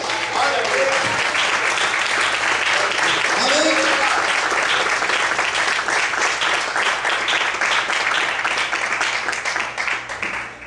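A church congregation applauds steadily and loudly in praise, a dense wash of clapping filling the whole stretch, with voices calling out faintly underneath.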